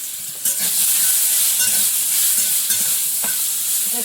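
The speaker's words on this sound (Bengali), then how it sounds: "একটু ভেজে নেব।" Dried chilies and panch phoron spices sizzle and fry steadily in a hot pan with a little salt and turmeric, a dense continuous crackle with occasional stirring scrapes, close and fairly loud with no talk.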